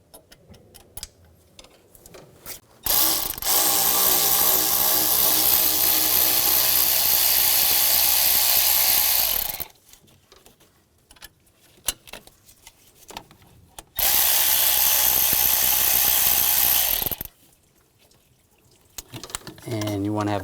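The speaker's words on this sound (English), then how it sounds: "Use a 10mm ratchet wrench for the bottom. Get that loose." A 10mm ratchet wrench loosening bolts during a thermostat housing replacement on a 2010-2017 Chevrolet Equinox 3.6L, with long bursts of fast ratcheting clicks separated by quieter pauses.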